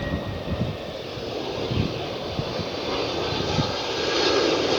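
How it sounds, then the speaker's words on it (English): Boeing 767 airliner landing at Lihue airport, a steady broadband engine roar with wind rush that holds for the whole stretch and swells slightly toward the end, heard at a distance with no talking. "But it is a 767, guys, and it's probably the biggest plane that flies into this airport."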